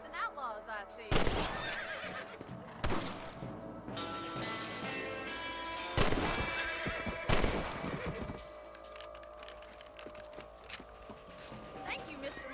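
Horses in the video game Red Dead Redemption, with loud whinnies and neighs breaking out over a steady background of game ambience, hooves and distant shots, while characters talk throughout.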